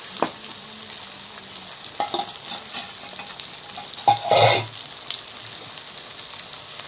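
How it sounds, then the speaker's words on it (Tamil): Steady sizzling of onions being tempered in a hot pan, with a few soft clinks and a brief burst of louder hissing partway through. "வெங்காயம் தாளிச்சிட்ருக்கிறேன்"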